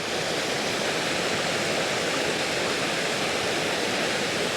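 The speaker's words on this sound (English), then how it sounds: "So this waterfall is the runoff from the tarn at the top" Waterfall of runoff from a mountain tarn feeding Tongue Gill, a steady, close, full-bodied roar of falling water that carries on unbroken with no voices.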